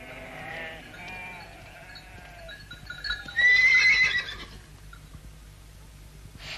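A small white horse cries out over a quiet outdoor background, ending in a loud, high whinny around the middle before fading to a low hum.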